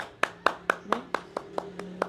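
People clapping together in a slow, even rhythm, about nine sharp, distinct claps roughly a quarter second apart, fairly close, with a faint low hum behind them.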